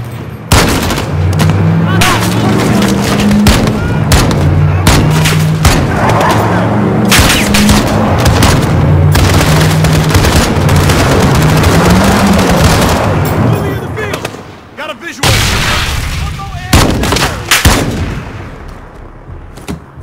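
Dense video game battle in Call of Duty Modern Warfare, with rapid gunfire, heavy booms and explosions rolling almost nonstop and loud, a brief lull, then more shots, with soldiers shouting over the din.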